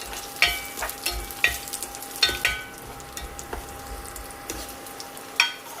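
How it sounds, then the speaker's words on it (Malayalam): Cashew nuts and raisins fry in hot ghee in a pan, giving a soft, steady sizzle broken by scattered crisp pops and crackles at irregular intervals, close and alone. "നെയ്യ് ചൂടായിട്ടുണ്ട്. അതിലേക്ക് കാഷ്യൂനട്ട് ചേർക്കാം. കിസ്മിസും ചേർക്കാം."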